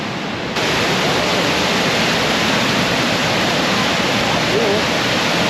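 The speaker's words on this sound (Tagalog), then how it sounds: "Athabasca Falls." Athabasca Falls in Jasper, Alberta roars as a dense, continuous rush of broadband water noise, loud and steady, with voices faintly underneath.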